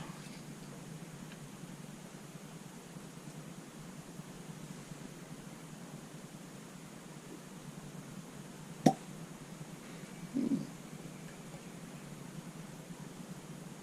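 A cork stopper is drawn out of a bottle of Rod and Hammers winter spiced whiskey, giving one brief, sharp pop, then a soft squeak, against quiet room hiss.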